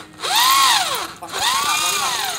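A power drill with a 5 mm bit bores into a cast engine block, its motor whining up and down in two loud, close bursts with a short pause between them.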